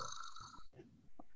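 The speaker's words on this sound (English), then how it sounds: "I hear snoring." Loud, rasping snoring comes through a webinar call, a drawn-out snore followed by a brief pause and another shorter snort.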